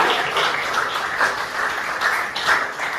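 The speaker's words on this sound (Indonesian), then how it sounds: "tepuk tangan dulu dong untuk Echa yang sudah bertanya" A class applauding a student named Echa for asking a question, a close, steady burst of many people clapping, dense and continuous for a few seconds with no talk.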